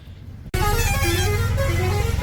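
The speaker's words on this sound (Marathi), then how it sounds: "फुल ट्रॅफिक आहे." Busy town street traffic near the Badami caves in India, with a loud, sustained car horn blaring close by over the rumble of engines after a brief quieter moment, no talk.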